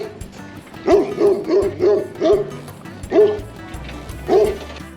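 Several dogs bark and yip in quick bursts, close by, with short pauses between volleys and a low rumble underneath.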